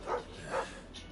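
Two soft, muffled dog barks spaced about half a second apart in Final Fantasy 16, fairly quiet and without anyone talking over them.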